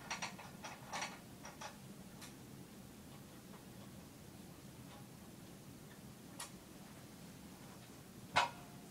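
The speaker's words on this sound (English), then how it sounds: "just connect two, or tighten down two of each" Bolts on a unit's connections are tightened down with a ratcheting tool, giving a few faint, sparse mechanical clicks and ticks over a quiet background, with a sharper click near the end.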